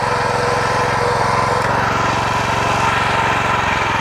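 A Rotakt MF 400 walk-behind tractor engine runs steadily up close in a potato field, a constant buzzing drone without pauses or voices.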